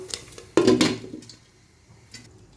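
A metal lid set down on a popcorn pot, giving one clear clank with a brief rattle, then quiet sizzling and a faint later clink.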